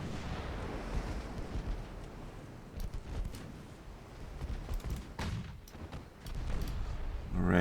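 Warship guns fire in a naval video game with a dreadnought campaign, giving faint, scattered booms and cracks over a steady wash of sea and ambient rumble.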